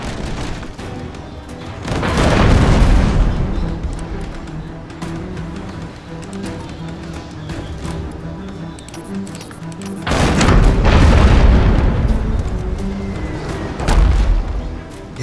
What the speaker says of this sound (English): Yes, I like the mortar.